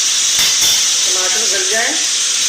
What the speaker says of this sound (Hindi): अब इसमें हम टमाटर और हरी मिर्च डालेंगे। अब इनको भी हल्का फ्राई कर लेंगे।